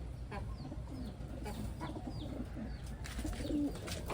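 Taiwan pigeons coo softly at close range, with low murmuring calls repeating through a faint background that also carries a few brief higher chirps.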